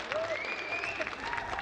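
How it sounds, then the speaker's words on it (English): Brief burst of crowd applause at a Warcraft III tournament quarterfinal for a player named Infi, with a commentator's voice talking over the steady clapping. "Applause here for Infi, he played this very well."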